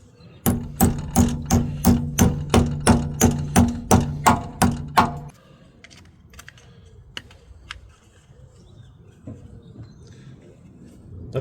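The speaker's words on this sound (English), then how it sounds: "What if I can hammer that flat?" Hammer blows flatten a metal part on a MK3 Volkswagen Golf during coilover and wheel spacer work, about a dozen loud evenly spaced ringing strikes, then quieter scattered clicks and handling noises.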